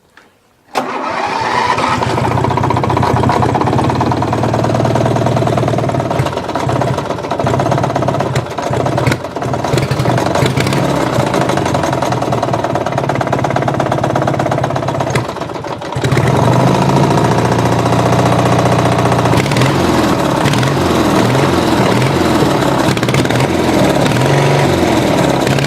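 After a brief crank, a vehicle engine catches and settles into a loud, steady idle, with a short dip in revs partway through before it carries on running close by.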